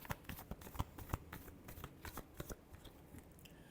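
Tarot cards are shuffled by hand in a brisk flurry of papery riffles and soft slaps, fairly close and quiet, with no voice over it.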